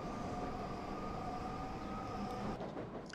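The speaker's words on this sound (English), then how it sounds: "I'm going to stop the train here" A Metropolitan Line train in the Transport Fever 2 game running steadily, a continuous rumbling drone with a thin tonal whine that eases off near the end.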